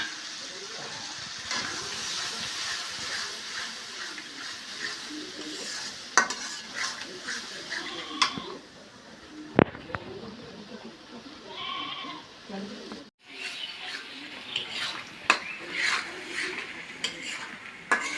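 Local prawns drop into hot oil and are stirred, sizzling continuously while a utensil scrapes and clatters against the pan at close range, with a few sharper knocks and brief pauses.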